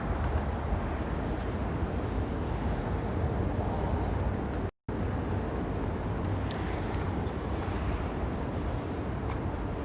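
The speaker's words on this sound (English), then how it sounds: "I hear the train rumbling underneath." A subway train rumbles beneath a New York City street, a steady low roar lasting throughout with one brief dropout.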